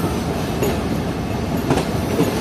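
A freight train led by an HGMU30 diesel locomotive rolls into a railway junction, giving a steady, loud rumble of wagons with faint wheel clatter and brief squeals throughout.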